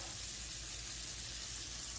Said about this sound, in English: it is frying up